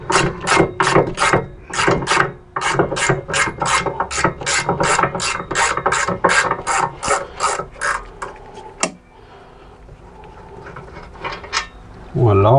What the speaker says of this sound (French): Celle-là, je peux la finir à la clé à œil appliquée.